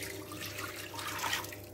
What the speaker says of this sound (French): je verse la sauce